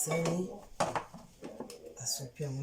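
Dishes and cutlery clatter and clink in a washing basin beneath steady talking, with small knocks and scrapes throughout.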